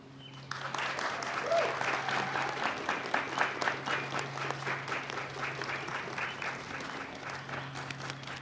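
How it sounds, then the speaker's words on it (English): Applause for a speaker at a university graduation celebration, rising quickly into sustained clapping from the audience with a steady rhythmic pulse and a low background hum throughout. "Can we give her another round of applause?"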